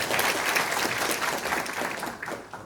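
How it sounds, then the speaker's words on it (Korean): Audience applause at a Korean political forum on local autonomy reform, a steady dense round of clapping that stays loud and close throughout, then tapers slightly near the end. "얼른 달려오시라고 박수 한번 해주십시오"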